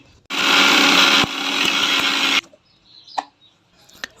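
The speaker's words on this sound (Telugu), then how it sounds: "వేపుకొని చల్లారిన తర్వాత మిక్సీ అయితే పట్టేయండి" A mixer grinder grinding roasted cumin and coriander seeds whirs loudly for about two seconds, briefly dipping in pitch partway through, then stops, followed by a few faint clicks and knocks.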